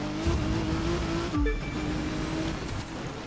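A race car in The Crew 2 game roars through a final lap, its engine held at a high, steady pitch with a brief shift dip midway, loud and close, no talk over it.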